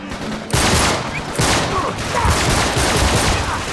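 Enemy fire during an ambush in Uncharted 3 bursts in heavy, continuous automatic volleys that stay loud and dense almost without a break, with clattering impacts layered throughout.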